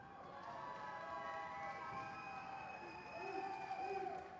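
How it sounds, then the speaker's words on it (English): Distant crowd cheering and chanting along city avenues, a faint, wavering wash of many voices under constant street noise, swelling slightly toward the end. "We can hear some cheering down the street."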